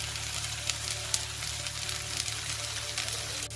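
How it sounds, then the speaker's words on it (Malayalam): Onion, curry leaves, green chilli, ginger and garlic sauté in hot oil, producing a steady, moderately quiet sizzle with a few faint ticks of stirring and no speech. "ആ സവോളയും കരിവേപ്പിലയും ആ പച്ചമുളകും ആ ഇഞ്ചിയും ഗാർലിക്കും എല്ലാം കൂടെ നന്നായിട്ട് വഴറ്റിക്കൊണ്ടിരിക്കുകയാണ്"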